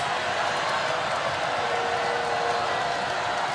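Dense, steady roar of a basketball arena crowd at an NCAA women's championship game between Utah and Gonzaga, constant and loud with no distinct breaks.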